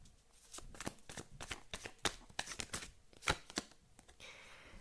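Tarot cards shuffle and snap in a quick series of crisp riffles and flicks, close and fairly quiet, with a softer rustle at the end as cards are drawn.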